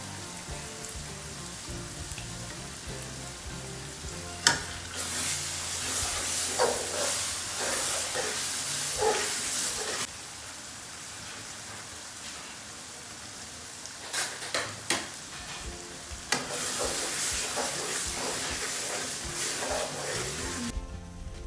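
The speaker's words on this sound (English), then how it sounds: "after frying for about 10 to 15 minutes" Tomato stew for rice and beans jollof fries in a pot while being stirred, giving bright sizzling bursts that flare up and die down in waves over a low steady background.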